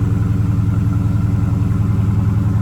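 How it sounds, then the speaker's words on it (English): A Honda Accord engine warms up at idle, a loud, close, steady low rumble with an even rapid pulsing throb and no voices over it. "We're gonna give her a rev after it warms up."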